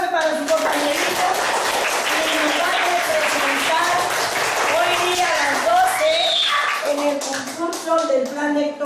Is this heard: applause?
yes